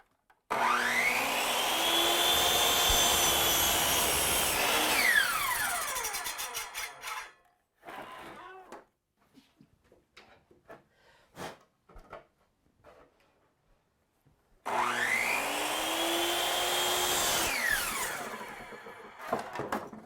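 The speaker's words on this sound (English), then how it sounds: "we're going to rip it down on the table saw to 3 pieces" A table saw rips a 2x8 wooden board in two loud, whining cuts separated by quieter handling knocks and clatter of the wood.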